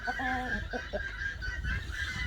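A rooster crows once near the start, a drawn-out harmonic call, followed by some clucking and farmyard rustle in the background.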